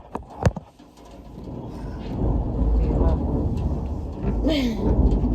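A deep rumble of thunder after lightning during a severe rainstorm swells and rolls on for several seconds, with birds cooing and chirping faintly and a brief voice early on.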